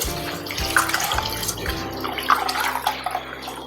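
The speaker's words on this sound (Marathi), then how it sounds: "3 वेळेस मी पाण्याने स्वच्छ धुवून घेणार आहे." Half a kilo of rice being rinsed in water in a kitchen, with continuous sloshing and running-water sounds. Splashes come through close and steady, with no speech.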